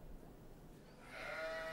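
Sheep bleating at a livestock sale, a drawn-out tonal bleat rising in the second half over low rumbling background noise, with no talk.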